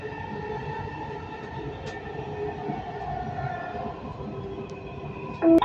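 Dubai Metro train running steadily, a continuous close rumble of wheels and motors with a faint high whine, ending in a sudden louder burst near the end.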